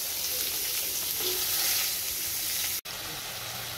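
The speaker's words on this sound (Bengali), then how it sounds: "মাছের মুড়ো দিয়ে মুগের ডাল করব, তাই মাছের মুড়োটা ভাজছি।" A fish head frying in hot oil for moong dal gives a steady, close sizzling hiss that fills the clip, with one brief dropout near the end.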